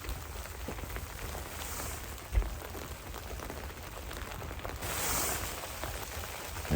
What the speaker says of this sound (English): Raindrops. Can you hear that?